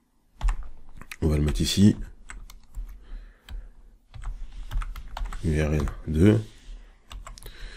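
Keys clack on a computer keyboard in short bursts, close and distinct, while someone speaks French over and between the typing.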